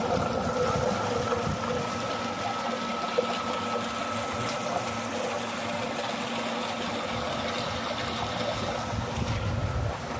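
A steady mechanical drone of a motor-driven farm water pump runs continuously, with water churning underneath and no voices.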